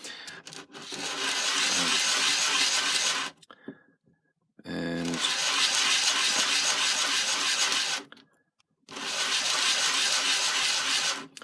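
Steady rough scraping of hand sanding the end of a timber piece, in three long sustained bursts separated by short pauses, close and fairly loud; a brief spoken word between.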